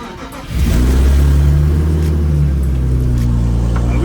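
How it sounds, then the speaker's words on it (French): Car engine starting to rev and then holding a rough, steady drone with a ticking exhaust leak, loud and close, with no talking over it. "t'auras entendu, il y a une petite fuite d'échappement"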